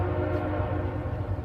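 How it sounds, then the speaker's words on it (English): A steady low rumble with a faint sustained horn-like tone hangs in the air, like a train heard from a distance. "I think I hear a train."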